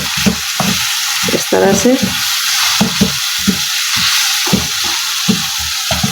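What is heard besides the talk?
onions frying and being stirred in a pan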